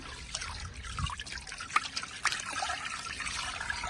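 Water poured into a container of kitchen waste liquid, a steady close trickle and splash with small drips, fairly soft and continuous, no voices.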